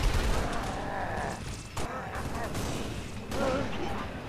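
Gunfire in the video game Halo Reach, a dense rumbling exchange of shots and blasts running throughout with a couple of louder swells, while a voice talks over it.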